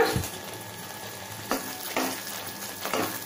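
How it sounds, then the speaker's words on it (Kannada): Spices sizzle softly in hot oil in a pan for puliyogare, a quiet steady fry broken by a few scraping stirs of a spoon. "ಇದನ್ನು ಒಂದು ಎರಡು ನಿಮಿಷ ಹೀಗೆ ಫ್ರೈ ಮಾಡ್ಕೋಬೇಕು"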